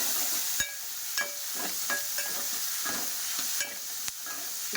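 Tomatoes cook down in a pan with ginger garlic paste, giving a steady close sizzle broken by sharp clinks and scrapes from a spoon stirring against the metal every second or so.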